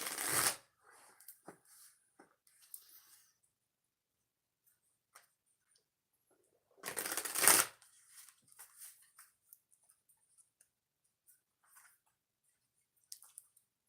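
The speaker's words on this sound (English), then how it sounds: "3 shuffles for pick-a-card reading number 1." A deck of tarot cards being shuffled in two close, brisk bursts, the first at the start and a louder one midway, with scattered soft card taps and handling between them in a quiet room.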